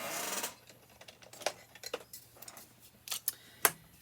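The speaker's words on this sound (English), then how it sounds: "And I'm going to take my scissors." Scissors snip through cardstock in a series of short, sharp cuts, close and fairly quiet, with a brief rustle at the start.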